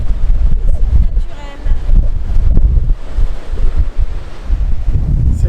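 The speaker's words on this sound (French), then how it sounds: "il y a du vent quand même" Strong wind gusting across a terrace in Madeira, loud buffeting rumble against the microphone rising and falling continuously, with voices briefly audible over it.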